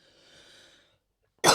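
A single sharp cough bursts out suddenly and loudly close to the microphone after a brief quiet stretch, preceded by a faint, soft breathy sound.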